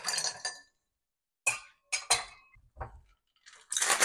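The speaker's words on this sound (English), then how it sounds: "Put in my ice cubes in my shaker." Ice cubes dropped into a cocktail shaker while mixing margaritas, heard as a handful of separate bright clinks and rattles in short bursts with quiet gaps between them.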